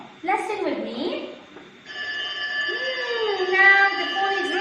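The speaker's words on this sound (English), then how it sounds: "Now the phone is ringing." A telephone rings with sustained, warbling electronic tones that fill the second half, following a brief spoken voice at the start.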